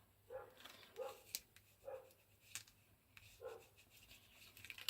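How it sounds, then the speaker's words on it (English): A neighbour's dog barks faintly in the distance, four muffled barks spaced about a second apart under quiet indoor craft noises. "I think actually I can hear the neighbour's dog barking."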